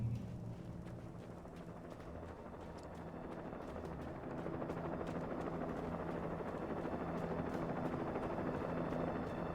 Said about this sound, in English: It's a serious chopper.